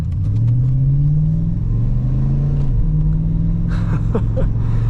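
Loud, low 5.0L V8 engine drone from inside a moving Holden VN Calais, the pitch rising and falling as the gears shift, steady and close throughout.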